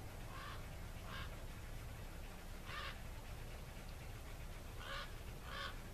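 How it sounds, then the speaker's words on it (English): A crow caws several times at a distance over a wide open field, single and paired calls spaced over a constant low outdoor rumble. "and hear Mr. Crow"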